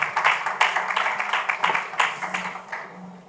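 At a conference session on political action in Africa, the audience applauds with distinct, fairly loud individual claps in an uneven rhythm, thinning out and fading over a few seconds.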